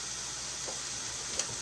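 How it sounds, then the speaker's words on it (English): Ground meat browning in a pan for cheesy potato burritos, a soft steady sizzle and hiss at close range, fairly quiet, with a faint click near the end. "Can y'all hear that sizzle?"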